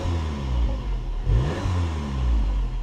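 Six-month-old VW Polo GTI Mk6 engine revving up and settling back, a close, loud mid-pitched rise in revs with a quick peak and falling drone, no talking over it.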